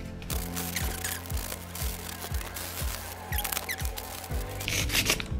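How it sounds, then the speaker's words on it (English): Sandpaper of 150 grit rubs along the edges of a soft top paddleboard under repair. The strokes come close and steady in a regular back-and-forth rhythm, each one a short scrape, over a low mechanical hum, with no one speaking. "I'm gonna hit it with some 150 grit sandpaper just to kind of smooth out the edges."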